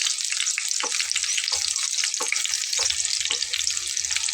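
An egg and flour snack sizzles in a pan on the stove while a metal spatula cuts through it, sharp scraping taps repeating over a steady frying hiss.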